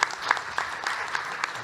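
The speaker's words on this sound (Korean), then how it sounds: "큰 박수로 좀 환영해 주시면 고맙겠습니다" An audience at a Korean scientists' congress panel session claps in a faint, scattered round of applause welcoming a panelist.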